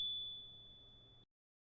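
A single bright bell ding plays as a sound effect for a subscribe bell icon, a clean sustained ping that fades slightly before cutting off abruptly.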